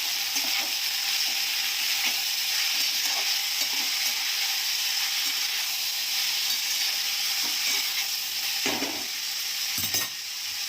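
Drumstick beans and brinjal sautéing in a pan, a steady broadband sizzle running throughout with occasional stirring scrapes and clinks, close and fairly loud, no voices.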